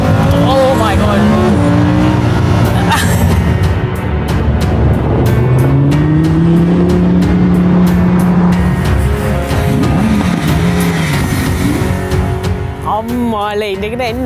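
Ferrari California T car driving, a loud close engine roar rising and falling through gear changes with a whining tone, under a busy mix of other sound and talk.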